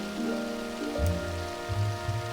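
Rain patters on a window inside a video game house, a soft steady hiss of drops with faint tonal background music playing throughout, no voices.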